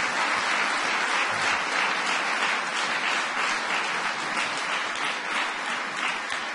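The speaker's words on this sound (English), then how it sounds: "You can give her a round of applause." An audience gives a steady, continuous round of applause during a presidential speech on the Precision Medicine Initiative, a broad even wash of many hands clapping at a moderate distance.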